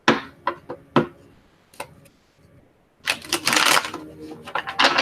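Tarot cards being shuffled by hand: a few quiet isolated riffles and taps at first, then a louder, sustained burst of dense shuffling near the microphone, with no talking.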